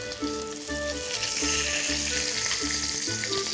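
Food sizzles steadily in a frying pan in an Armenian kitchen, a constant close crackle and hiss with faint melodic tones underneath.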